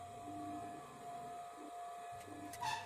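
A domestic sewing machine runs steadily, stitching close along fine corded piping on a katori blouse, a continuous whirring hum with a faint higher whine and a brief clatter near the end, no voices.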